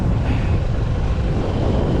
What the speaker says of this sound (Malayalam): മഴ നല്ല അടിപൊളിയായിട്ട് കുത്തി പെയ്യുന്നുണ്ട്.